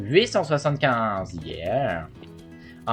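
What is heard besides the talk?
No distinct noise like a dog, phone or traffic.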